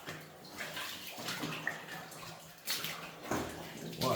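Water sloshes and splashes in a flooded tunnel of an abandoned 130-year-old gold mine at Monte Cristo, Glacier Basin, in faint bursts of wading with louder surges near the end.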